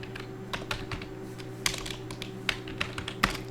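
Someone types a command on a computer keyboard while setting up a Debian Linux email server, producing a quick, irregular run of close key clicks over a faint steady hum, with a few sharper taps standing out.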